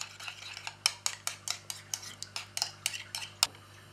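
Ingredients for a rainbow trout curry stirred together in a pan, a quick run of metal utensil clinks and scrapes against the pan, close and fairly quiet, with no talking.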